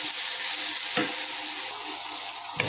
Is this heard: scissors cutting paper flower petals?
no